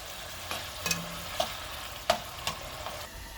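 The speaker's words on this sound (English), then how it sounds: "mix it all together and let it cook for another 5 minutes" Bitter gourd sabji cooks in tamarind water in a pan, a low steady sizzle broken by several sharp scraping stirs of a spoon against the pan, close and quiet, no talking.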